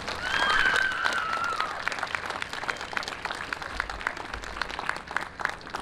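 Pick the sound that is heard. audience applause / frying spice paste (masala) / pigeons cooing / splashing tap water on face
audience applause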